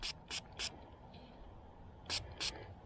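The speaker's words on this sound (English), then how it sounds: "Let's get a little spray on it." A spray bottle spritzes a wheat penny dug up while metal detecting at an 1896 house: three quick, crisp hissing squirts, a pause, then two more, close and fairly quiet against a faint outdoor background.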